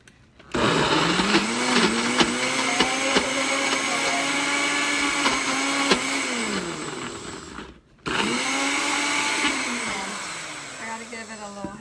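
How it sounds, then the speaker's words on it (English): A NutriBullet blender whirs loudly while blending pizza crust ingredients, a steady high motor roar with a brief stop near the end before starting again and winding down. "I love my NutriBullet. It is an awesome little tool"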